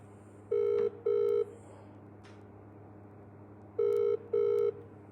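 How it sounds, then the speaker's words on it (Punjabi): A telephone call is being placed, and the ringback tone sounds as two double-ring bursts: two short, even, buzzing pulses, a pause of about two seconds, then two more, all over a steady low hum. "ਲਓ ਜੀ ਫੇਰ ਲੱਗ ਗਿਆ ਫੋਨ"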